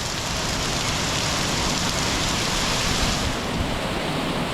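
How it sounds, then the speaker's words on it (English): Steady rain pours down in Gonçalo Alley, a narrow downhill lane in Macau, a dense unbroken hiss of drops on pavement and surfaces that holds even and fairly loud for the whole stretch, with no voices. "Going downhill, you can see it just started raining"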